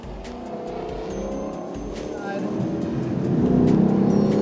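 A 2017 Lexus LC 500 runs on a snow course, its engine loud and close and rising steadily toward full throttle, with rapid clicking ticks over the top.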